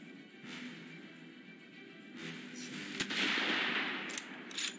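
Rifle shots in the WWII shooter game Rising Storm, a few sharp cracks and a louder report over faint background noise, spaced irregularly.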